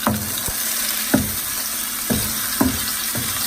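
Garlic browning in olive oil with a small slab of butter in a pan, a steady close sizzle broken by a few sharp clicks and scrapes as it is stirred, loud and with no voices.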